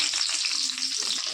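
Potatoes fry in hot oil in a pan during the making of an Odia chicken kasha, giving a steady, close, dense sizzle that runs unbroken with faint stirring.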